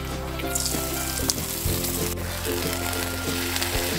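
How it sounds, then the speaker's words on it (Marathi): A hot tempering of oil, chillies and asafoetida poured into sarson ka saag, giving a loud, dense, close sizzle that crackles on steadily with no voices. "आता ही फोडणी या भाजीमध्ये घालायची आहे।"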